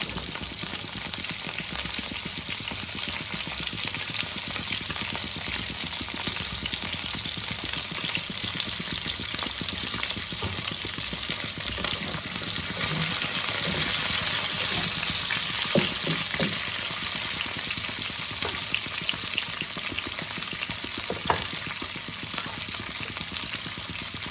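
Slit green chillies fry in hot oil for a chilli aar fish dish, giving a steady, even sizzle that crackles close and constant throughout, with no talking.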